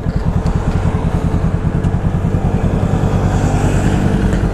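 A Kawasaki motorcycle on the road gives off a loud, close, rhythmic engine throb with steady pulsing exhaust beats and wind noise while cruising, without any speech.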